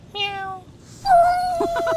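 A cat meows twice close by: a short rising mew, then a longer drawn-out meow, with faint background noise and no other voices.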